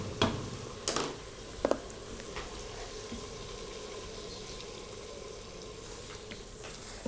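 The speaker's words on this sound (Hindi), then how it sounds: "अब हम इसमें हाफ कप पानी शामिल करेंगे।" Half a cup of water poured into a pan of chicken jalfrezi that has been fried until the oil separates, giving a steady, soft watery hiss and sizzle with a few brief clinks near the start, no talking.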